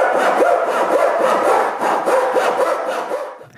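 A hand saw cuts through thin plywood strips in quick, even back-and-forth strokes, close and clear, about eight rasping passes before stopping.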